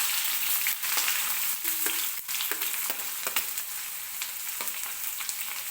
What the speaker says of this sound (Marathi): आता बारीक चिरलेला कांदा टाकून घेते.